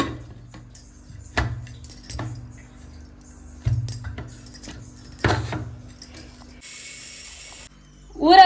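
Several sharp metallic clanks and clinks as a pressure cooker lid is set in place and closed over rice, separated by short quiet pauses.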